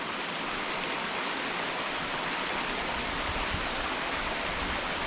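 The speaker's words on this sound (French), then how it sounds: "Magnifique cascade qui sort des grottes" Waterfall pouring out of caves at Combe Laval in the Vercors, a steady, dense rushing roar that holds constant throughout with no voices.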